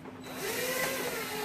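A 1/8 inch drill bit enlarges pre-drilled holes in the metal turret ring of a 1/6 scale Dragon Sherman tank model, giving a steady, close-up whirring drone that spins up within the first moment and holds without pause.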